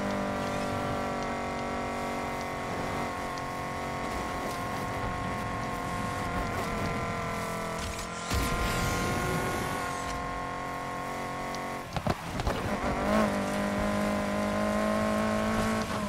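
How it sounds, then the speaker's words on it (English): Car engine with a supercharger in the Need for Speed Heat racing game, giving a sustained, steady whine and engine drone that shifts pitch as it revs, loud and continuous throughout. "You can hear the whine in that supercharger though."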